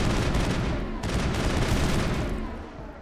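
Rapid rifle gunfire in the sci-fi shooter Mass Effect 1, a dense, continuous stream of loud shots with a short break near the one-second mark, tailing off at the end.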